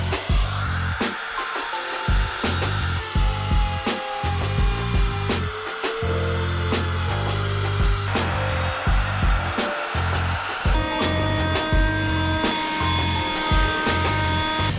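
A power trimming tool cuts away excess skin material on a teardrop camper roof, a loud continuous whirring drone with shifting pitch that runs steadily throughout.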